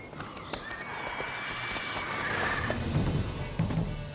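Hooves of the horse Roach galloping in The Witcher 3, a fast rhythmic clip-clop run with a brief whinny, loud and close over a game soundscape.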